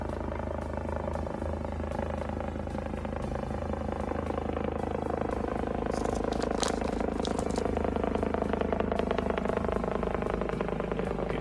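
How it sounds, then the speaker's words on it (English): Steady low rotor-like drone of a helicopter, constant and fairly distant, filling the whole stretch with a continuous mechanical hum and no talk. "This sounds like a helicopter."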